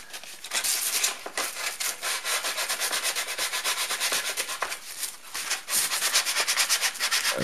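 Hand sanding of a painted wooden tablet stand before water-based lacquer, a steady close rhythm of rasping back-and-forth strokes, loud and continuous with no talk.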